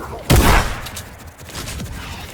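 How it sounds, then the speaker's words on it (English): Gunfire in the video game Fortnite, a shotgun shot followed by SMG fire: one loud, close blast at the start, then lower, softer shots trailing off with faint noise behind. "Hit him with a shotgun shot and then try tracking with my SMG."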